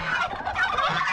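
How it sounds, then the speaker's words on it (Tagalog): Pet ducks on a rooftop give a quick burst of nasal, gobbling calls, loud and close, lasting about a second. "Sa may mga alaga nating pato."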